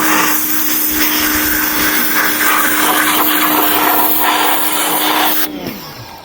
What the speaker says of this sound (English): then I think we're going to break out the pressure washer